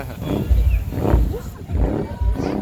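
A mud bog vehicle's engine roars and grinds in repeated heavy surges, low and rumbling, straining through mud, with the revs rising and falling.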